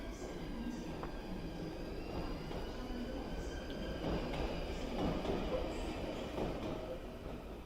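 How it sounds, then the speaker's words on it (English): A London Underground tube train rumbles steadily past with broad low roar and faint metallic squeals, continuous throughout at fairly close range. "We'll get this train out the way"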